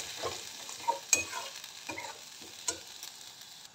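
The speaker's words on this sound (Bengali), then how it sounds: "এবার মশলাটা দিয়ে লো হিটেই নেড়ে নেব।" Spice paste being stirred in a pan over low heat: irregular scraping strokes of a spoon against the pan over a soft, faint sizzle, close up with no talking.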